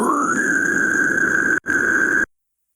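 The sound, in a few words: vocal fry scream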